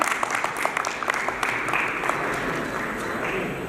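Crowd applause at a Lions club charter night celebration, continuous clapping that holds steady and slowly thins, with faint crowd noise mixed in.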